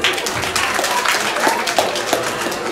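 A seated audience gives steady, moderately loud applause, continuous clapping that holds evenly throughout with no break.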